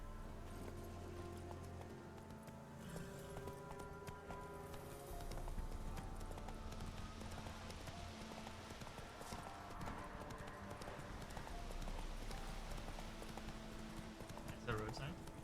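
Rhythmic clip-clop of hooves from the horse Roach trotting in The Witcher 3 Wild Hunt, steady and close under game music and ambience, with a person talking over it.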